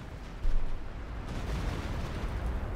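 Panzerwerfer rockets launching in Company of Heroes 2, a sudden loud whooshing burst that settles into a sustained rumbling roar, with no voices.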